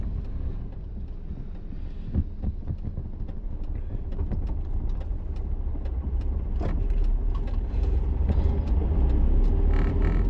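A second-hand Tata Nano's engine runs steadily at close range, a low continuous rumble with a slight wind buffet against the microphone and no talking.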